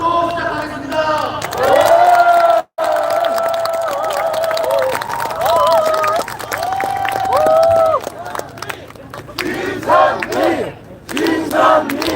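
Crowd at an outdoor political campaign rally near Sangil-dong station in Gangdong-gu, Seoul, cheering and shouting loudly, with sustained voices and chant-like calls, a brief cut, then a mix of cheers and talk continuing to the end.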